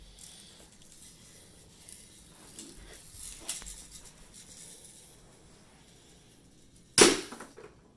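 A Red Ryder BB gun fires once with a single sharp crack, fairly close and loud, after several seconds of faint handling noise and room ambience.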